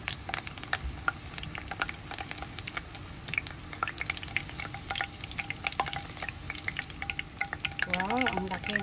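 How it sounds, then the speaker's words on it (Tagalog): Eggplant tempura frying in oil, a continuous close crackling sizzle with scattered pops, swelling louder near the end as more batter hits the oil. "Tapos yan ay ilagay natin sa mantika."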